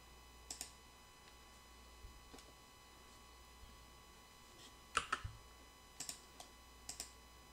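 Computer keyboard keys are pressed in short clusters of sharp clicks separated by pauses, quiet and close in a silent room, with no talking.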